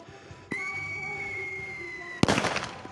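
In a provincial setting, a firework lets out a sharp crack, then a long steady whistle lasting under two seconds, and then a loud explosive burst with crackling at the end, heard fairly close.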